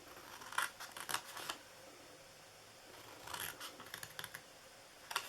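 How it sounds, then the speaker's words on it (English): Scissors snipping through paper along score lines for a handmade gift box, with quick clusters of crisp close cuts separated by brief pauses and faint room hiss. "Cut down each one of these to the second score mark."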